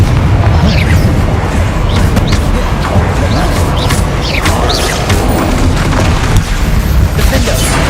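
Bombarda and other explosion spells cast in Hogwarts Legacy gameplay: continuous loud, dense booms and crashing blasts with rumbling debris, layered with game effects and a voice talking throughout.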